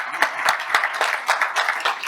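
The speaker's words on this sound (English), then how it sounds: "we're going to applaud ourselves for being here" A conference audience at a European logistics real estate event breaks into applause, a dense run of many hands clapping steadily and fairly close, with brief sharper claps standing out.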